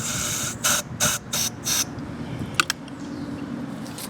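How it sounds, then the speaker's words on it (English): Cleaner sprayed through the jet of an old lawn mower carburetor: four short, hissing aerosol bursts in a steady rhythm, then two brief sharp clicks, all close and over a low background rumble. "So I just want to make sure that if I spray down here through this jet,"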